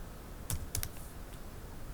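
Several quick, soft keystrokes on a computer keyboard, three close clicks grouped near the start, faint over a quiet room hiss.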